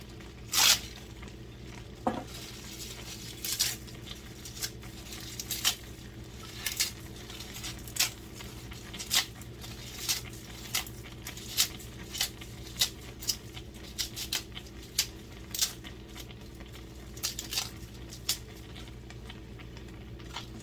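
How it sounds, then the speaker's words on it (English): Kale leaves torn by hand into bowls, with soft crisp rips and rustles scattered irregularly over a quiet kitchen background, no voices. "I'm going to tear up 2 leaves in each bowl"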